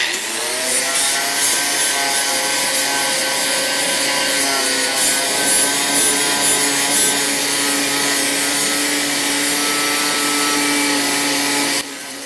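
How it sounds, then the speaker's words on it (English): A flap disc grinds steel clean, giving a steady, loud abrasive whir with harmonic tones that holds for about twelve seconds before easing off at the end. "And then we'll just clean up the metal here with our little flap disc."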